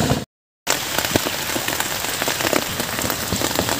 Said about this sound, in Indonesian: Berasa lagi hujan ya